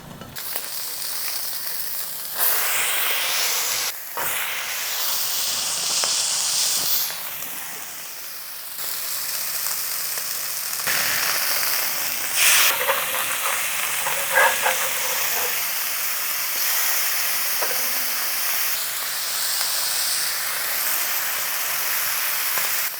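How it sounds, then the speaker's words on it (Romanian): Burger buns toasting in butter saved from caramelized onions, a loud, continuous close sizzle and hiss from the pan that swells and shifts in texture throughout, with no talk. "uite cum folosesc eu acum un pic de unt de ăsta recuperat de la ceapa caramelizată. Să pun doar așa, cât să prăjesc chiflele un pic."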